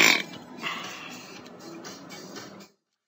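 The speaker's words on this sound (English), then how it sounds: "The louder the burp, the more grateful you were for the food." A single loud, gravelly burp opens, then trails off into a low, rumbling belch that fades out after a couple of seconds.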